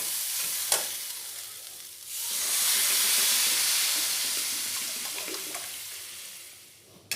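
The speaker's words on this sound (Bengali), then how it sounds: "এবার ওতে দিয়ে দেব জল।" Water is poured into a pan of yellow lentils frying with turmeric, setting off a loud rushing hiss and sizzle that swells after a couple of seconds and then slowly fades under stirring.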